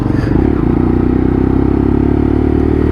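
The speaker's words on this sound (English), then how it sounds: "So just coming in on the front brake only." A Lexmoto LXR SE motorcycle slowing under the front brake only on a road run into a headwind, its engine a steady loud drone with wind rush throughout.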